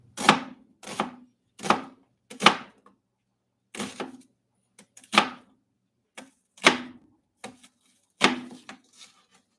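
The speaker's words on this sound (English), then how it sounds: "All right, cut up some onions." A knife chops onions at home in a series of sharp, separate strokes on a cutting board, loud and close, arriving in irregular groups with short pauses between.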